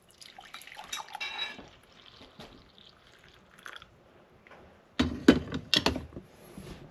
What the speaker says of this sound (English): And you pour mountain coffee